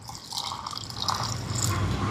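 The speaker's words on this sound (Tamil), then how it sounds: "இப்போ தண்ணி சேர்க்குறேன்." Water trickles and splashes into ground curry paste of onion and coconut in a grinder jar, a short close pour that builds slightly louder toward the end.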